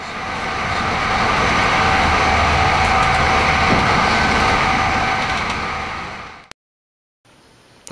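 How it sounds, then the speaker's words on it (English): Atlantic City Express passenger train rushing along rails through New Brunswick, New Jersey, a loud, sustained roar of wheels and rail noise that cuts off abruptly near the end. "The trip is almost over as we rip through New Brunswick,"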